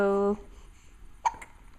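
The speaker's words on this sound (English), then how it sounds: "You have the hiccups." A young child gives a single sharp, close hiccup just after a brief spoken voice, with quiet room tone in between.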